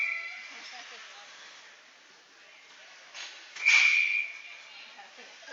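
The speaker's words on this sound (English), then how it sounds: "Referee still struggling with his whistle." A referee's whistle at an ice hockey semifinal gives one short, shrill blast partway through, rising sharply above the steady arena murmur and a faint sustained tone.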